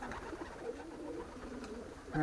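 Racing pigeons coo softly around their loft, a low repeated cooing close by with faint background noise.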